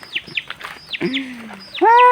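Ducks call in short nasal quacks and squawks, close by, followed by a louder drawn-out call, with wind and rain around them.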